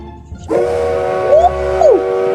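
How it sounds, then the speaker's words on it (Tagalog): A steady multi-tone video game train horn sounds and holds, with two brief bending pitch sweeps near the end over a low engine rumble. "Horn check tayo. Sound check."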